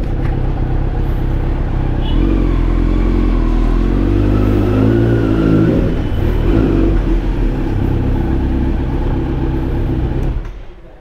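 A sport motorcycle, likely a BMW S1000RR, idles and revs steadily while being wheeled inside for a Dehradun meetup; a loud, continuous engine drone with clattering that cuts off near the end.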